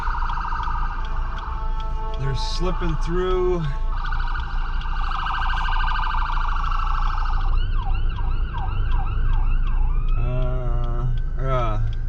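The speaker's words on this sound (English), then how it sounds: "ambulance coming from the left." A wailing emergency siren sweeps up and down nearby, shifting between wail and yelp patterns, with traffic rumble and someone briefly speaking over it.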